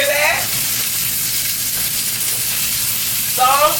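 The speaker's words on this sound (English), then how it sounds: "they're sizzling" Steady, loud sizzling of hash browns frying in a pan fills the clip, a constant crackling hiss with a brief voice at the start and end.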